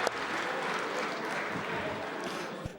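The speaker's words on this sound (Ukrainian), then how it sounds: "Слуги аплодували, але жиденько цього разу." Thin, scattered applause from members of the Ukrainian parliament in the Rada chamber, a steady broadband patter of hands with no clear rhythm, fairly quiet and continuous for a few seconds.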